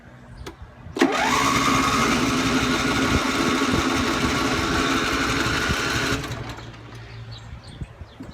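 A car engine that has sat for about five months on an uncharged battery cranks and fires, then settles into a loud, steady idle for several seconds before dropping back.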